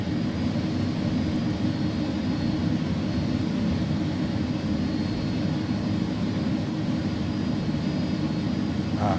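Jet engines of an iniBuilds A300 in the X-Plane 11 flight simulator, a steady, loud roar and whine holding at a constant level throughout.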